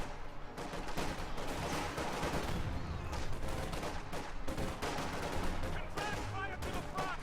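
Sustained suppressive gunfire from the World War II strategy game Company of Heroes 2, dense overlapping rifle and machine-gun bursts crackling continuously with battlefield noise and scattered voices.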